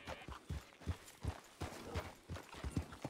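Steady clip-clop of a horse's hooves in the RedM (Red Dead) game, an even trotting rhythm at moderate volume, heard alone without speech.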